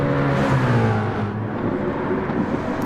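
Race cars in a racing video game at the Red Bull Ring accelerate hard down the front straight, a loud, sustained engine roar with rising pitch and a passing whir, close and continuous.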